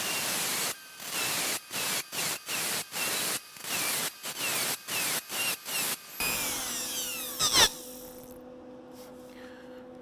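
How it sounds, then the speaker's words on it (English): A Dremel tool fitted with a small fiberglass cutoff wheel cuts into a rusty windshield frame. A loud, hissing whine comes in about a dozen short bursts, each roughly a third of a second long. It then winds down into a fading whir and a single clunk. "I'm going to show you how I'm doing that using the Dremel tool with a little fiberglass cutoff wheel"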